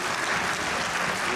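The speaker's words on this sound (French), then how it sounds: "Honorable Nasser, vos applaudissements, s'il vous plaît, pour l'accompagner." Steady, dense applause from a crowd at a youth leaders' forum, filling the whole moment at an even loudness with no voices over it.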